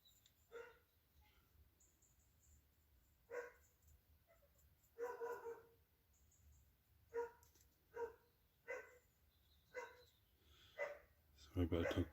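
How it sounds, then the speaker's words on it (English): A dog barks repeatedly in the background of a quiet indoor room, single and double barks spaced irregularly, faint to moderate, growing louder and more rapid at the very end. "Sorry about the dog barking in the background."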